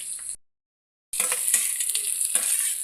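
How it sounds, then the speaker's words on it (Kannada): Ginger and green chillies crackle and sizzle in hot oil in a pan for lemon rice, with a brief fry, a short silent break, then steady close-up sizzling with light stirring and no talking. "ಶುಂಠಿ ಹಾಕಬೇಕು, ಹಸಿಮೆಣಸು ಹಾಕಬೇಕು, ಹಾಕಿ ಫ್ರೈ ಮಾಡಬೇಕು"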